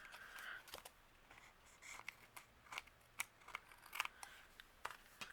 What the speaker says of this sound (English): We'll trim off the excess here.